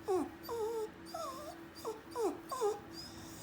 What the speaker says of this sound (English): Oh, that's my little dog.